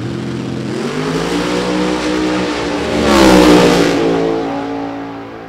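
A Firebird drag racing car revs hard at a late qualifying session, the engine note loud and rising steadily, surging to a peak near the end before easing slightly, with no voices over it.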